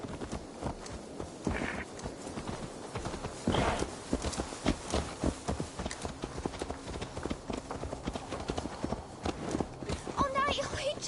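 Horse hooves clip-clopping at a walk in the video game Assassin's Creed Valhalla, a close, irregular clatter of hoof beats with characters talking over it and a brief musical flourish near the end.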